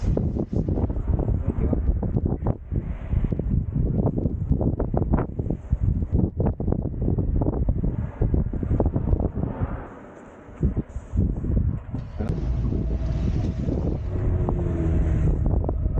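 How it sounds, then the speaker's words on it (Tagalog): Strong wind buffets the microphone in heavy, rumbling gusts, roaring nearly nonstop with a brief lull midway. "Lakas ang hangin."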